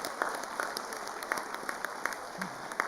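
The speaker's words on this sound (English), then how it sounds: "give a big round of applause to your parents and your family members and friends." Faint, distant applause at the SUAS convocation ceremony as graduates clap for parents and families: a soft, steady patter of many hands with a few sharper individual claps standing out.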